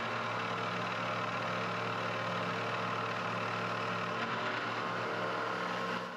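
Metal lathe or similar machine tool spinning at 2,000 RPM during a finishing cut on a carriage lock part, a steady close mechanical hum and whine running without a break, no voices.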